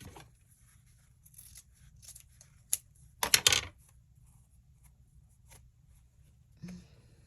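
Scissors cutting a small strip of fabric for a no-sew journal, heard as a quick burst of close snips at the midpoint, followed by a few light handling rustles in a quiet room.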